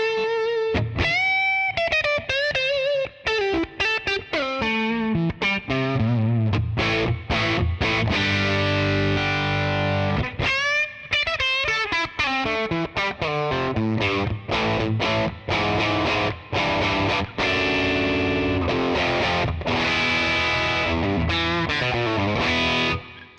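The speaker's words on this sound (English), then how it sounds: "the twin reverb, also the blackface, but in a crunch setting" An electric guitar plays through a 1967 blackface Twin Reverb amp capture on the vibrato channel at a warm crunch setting, strummed chords and single-note lines ringing with gritty, sustained overdrive and no talking.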